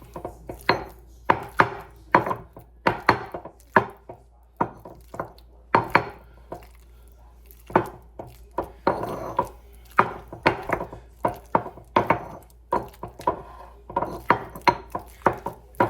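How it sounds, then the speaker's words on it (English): Ripe avocado being mashed and scraped in a bowl for avocado toast, a steady run of close, wet crunching strokes and scrapes repeating in irregular bursts, with no talking. "So make sure you keep on scraping, mashing it to a good mash there."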